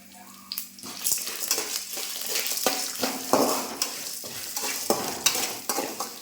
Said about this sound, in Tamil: அடுத்தது பூண்டு மிளகாய் நான் லாஸ்ட்டில் தான் உப்பு சேர்க்க போகிறேன் இதையும் நம்ம நல்லா வதக்கிக்கணும்